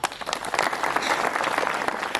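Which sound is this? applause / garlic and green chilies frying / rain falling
applause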